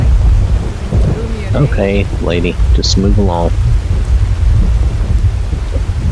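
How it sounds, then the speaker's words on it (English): Video game storm from the Skyrim Haze 2 weather mod: heavy rain hisses steadily with deep rolling thunder underneath. A voice speaks briefly over the storm partway through, and the rain keeps going at a loud, constant level. "Oh, but listen to that thunder."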